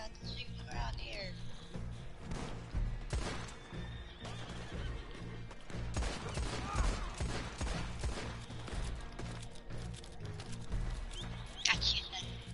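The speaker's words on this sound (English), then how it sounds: "There is all kinds of shooting around here." Scattered gunfire in the Western video game Red Dead Online, sharp cracks going off amid horse whinnies and hoofbeats, with people talking over the busy scene.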